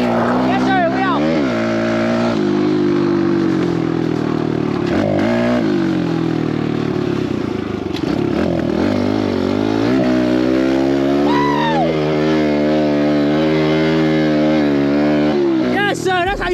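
Loud, close engine of a mini dirt bike ridden through water, with whining, rising and falling revs throughout and excited voices shouting over it.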